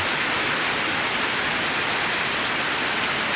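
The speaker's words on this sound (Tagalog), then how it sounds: "lakas ng ulan oh." Heavy rain on its third straight day pours down steadily, a dense, loud hiss of drops with no pauses and no voices.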